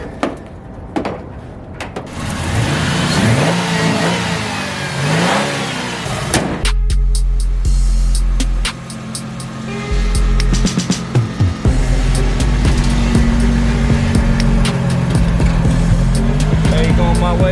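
A Ford Mustang drift car's engine revs and idles loudly up close in a garage, with sharp throttle blips and a deep rumble, while people talk over it at times.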